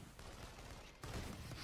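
Gunfire in the video game Infamous Second Son as panels are shot out, a dense rattling burst of shots that grows heavier and louder partway through, with no pause.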